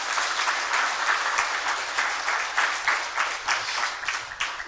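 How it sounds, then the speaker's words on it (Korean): Church congregation clapping in encouragement during an all-generations Sunday service, a warm, steady patter of many hands with gentle swells, continuing throughout at moderate volume. "우리 격려의 박수 한번 해주시고"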